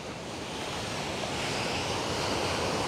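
Indian Ocean waves roll onto a rocky shore that is not a swimming beach, a steady, loud surf roar with wind buffeting the microphone and no voices.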